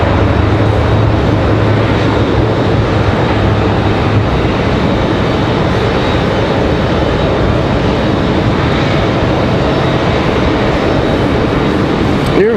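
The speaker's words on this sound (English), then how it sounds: "JetBlue is going to head on out." A JetBlue airliner departing Raleigh-Durham International Airport gives a loud, continuous broadband engine roar that holds steady throughout, with faint voices mixed beneath it.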